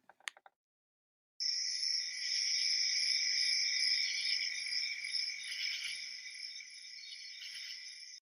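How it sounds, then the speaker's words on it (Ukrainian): After a few faint ticks, crickets start chirping in a steady, high, shrill drone that continues without pause to the end. "цвіркочуть цвіркуни."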